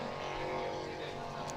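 Racing powerboat engines roar at the Key West world championship, including a 32-foot Doug Wright boat, a loud steady drone heard briefly with a commentator's voice over it.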